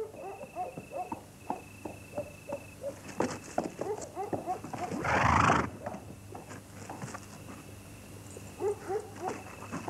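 Horse hooves clip-clop at a walking pace, a horse neighs once, and a burst of noise cuts through in the middle.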